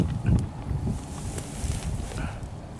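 Steady, moderate wind rushes and buffets a microphone outdoors at a flooded field while fishing for snakehead, with broadband gusty noise and no speech.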